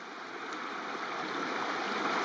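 Creek water flows steadily along a trailless backcountry route in Banff, a continuous rushing wash that stays even and fairly close without any voices over it.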